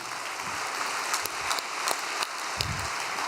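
A congregation gives a short round of applause at a religious gathering, a fairly quiet, crackling wash of clapping with a few sharper claps and no talking.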